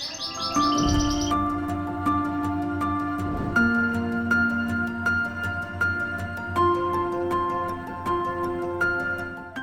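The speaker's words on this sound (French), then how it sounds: "il y a le bruit des oiseaux et tout" Birds chirp and call repeatedly in a quiet hotel courtyard inside the Shiraz bazaar, clear, tonal tweets overlapping in a steady, close chorus with no talk.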